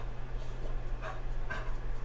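A dog panting softly in quick rhythmic breaths with a couple of faint whimpers, quiet and close, no talking over it.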